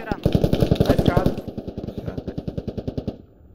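Rapid automatic gunfire cracks in tight, evenly spaced bursts in the tactical shooter Squad, loud at first and then a little softer before stopping. A voice briefly speaks over the shots.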